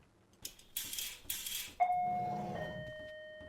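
A doorbell rings once in a horror video game, a bright two-tone chime that rings out and fades slowly after a few brief rustling noises.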